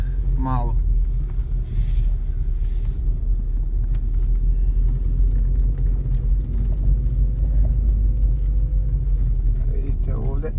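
A car towing a small tractor livestock trailer on a rural road gives a steady, loud low engine and road rumble that holds throughout without a break.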